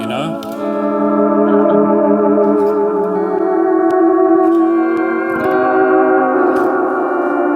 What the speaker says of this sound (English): I'm imitating an organ now